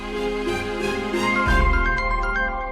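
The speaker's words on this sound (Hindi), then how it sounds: "अरे नन्ही बिटिया का फोन आ रहा है, उठा लो" A melodic electronic phone ringtone plays steadily, its tonal pattern repeating with a bright chiming quality and no talking over it.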